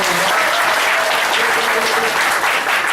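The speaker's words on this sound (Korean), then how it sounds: "좋은 강연 해주신 유승민 의원님께 다시 한번 큰 박수 부탁드립니다" A lecture audience bursts into sustained, dense applause after a talk at a citizens' academy lecture in Incheon, the clapping steady and loud throughout with no voices over it.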